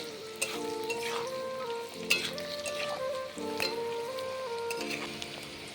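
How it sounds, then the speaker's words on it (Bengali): Cashews and raisins frying in a pan with a steady, close sizzle, broken by a few sharp clinks of a spatula stirring against the metal. "কাজু কিশমিশকে খুব ভালোভাবে ভেজে নেব"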